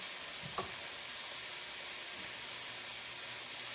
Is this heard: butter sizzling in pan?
yes